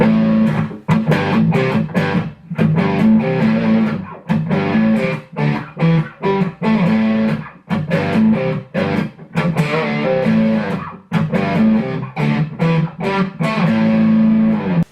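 Heavily distorted electric guitar through a Boss DS-1 distortion pedal and a TC Electronic Nether octave pedal plays a chugging riff with thick, buzzing tone and short gaps between phrases, loud and close.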